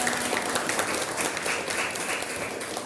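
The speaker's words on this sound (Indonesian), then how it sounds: "Tepuk tangan untuk kita semuanya." Classroom applause from students in an Indonesian school lesson, a dense, steady patter of many hands clapping together throughout, fairly loud and close with no voices on top.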